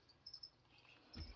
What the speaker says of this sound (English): I've got a bunch of crickets.